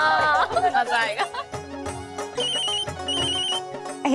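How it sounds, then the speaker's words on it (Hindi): A phone rings in a family drama scene, a repeating electronic ringtone that comes through in bursts over background music, with voices briefly heard at the start. "एक मिनट, माँ का फोन है।"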